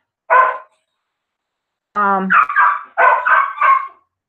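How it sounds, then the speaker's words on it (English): A dog barks indoors, one short bark followed after a pause by a rapid run of loud, yelping barks and whines, close to the microphone. "so the dog is getting upset"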